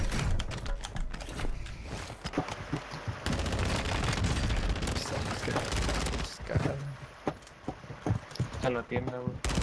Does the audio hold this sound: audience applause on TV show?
no